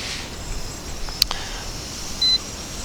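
A single short, clear electronic beep, the low-battery warning of a Hubsan X4 H501S drone, sounds once over faint outdoor background with a brief click just before it.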